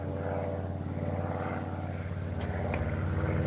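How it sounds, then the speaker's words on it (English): A large new airplane on a test flight passes overhead, its engine drone loud and steady with a throbbing, propeller-like hum that swells slightly toward the end, with no voices. "Gee, look at that big new plane up there."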